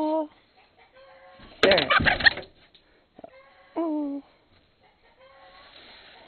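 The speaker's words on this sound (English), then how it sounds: "There's a chicken in your house." A chicken clucks indoors in a house with several close, distinct calls and squawks, mixed with a brief burst of people talking and handling noise.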